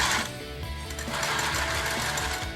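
A sewing machine runs a straight seam through fabric, with a fast, steady mechanical whir and needle clatter that stays close and continuous throughout and has no talking over it.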